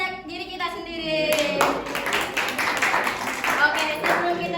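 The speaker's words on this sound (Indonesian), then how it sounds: "Mari kita tepuk tangan untuk diri kita sendiri." A classroom of students clapping together during a microteaching lesson: a dense burst of applause starts after the first second and continues steadily to the end, with voices heard underneath.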